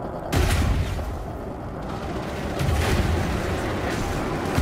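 Loud, booming blasts from seven overcharged grade 5 cannons on a Corvette ship in Elite Dangerous, with heavy impacts arriving in a few big surges amid steady rumbling fire.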